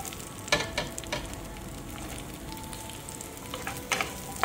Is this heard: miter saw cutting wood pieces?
no